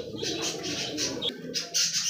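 Soft pigeon cooing in a noisy pigeon market setting, low murmuring calls continuing throughout with brief chirpy notes over a steady background.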